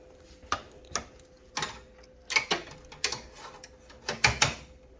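An embroidery machine stitching a design onto a lined zipper bag, giving irregular mechanical clacks and ticking bursts of the needle and hoop mechanism over a faint steady motor hum, close and clear.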